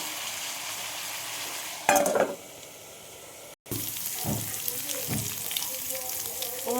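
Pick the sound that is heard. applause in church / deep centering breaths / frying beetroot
frying beetroot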